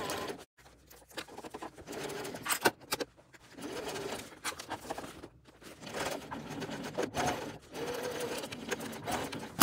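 A sewing machine stitches the bottom seam of a Coupeville tote bag, fast rhythmic needle bursts in several short runs separated by brief pauses, close and clear with no talking.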